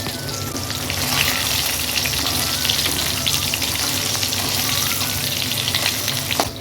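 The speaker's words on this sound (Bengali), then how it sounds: "এখানে মাছের জন্য আলু পটল ভাজতে দিয়ে দিয়েছি" Potato and pointed gourd pieces fry in hot oil in a home kitchen, giving a loud, steady crackling sizzle with scattered pops throughout and no voices.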